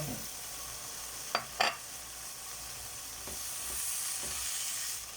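Egg frying in a pan with string beans and ground pork, a steady soft sizzle with a couple of sharp clinks or stirring knocks early on, close and moderately quiet, no talking.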